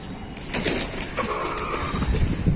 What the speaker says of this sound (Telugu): పక్షులు వాటి కోసం వేసినటువంటి రైస్ తింటున్నాయి అన్నమాట